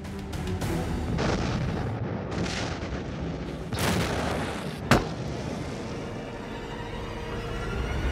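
Heavy rumbling blasts and booms roll continuously, with one sharp, loud crack standing out partway through amid a dense, noisy background.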